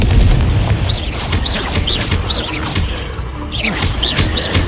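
Confringo spell explosions from Hogwarts Legacy combat go off as a rapid string of loud booms, roughly every half second, against constant battle rumble.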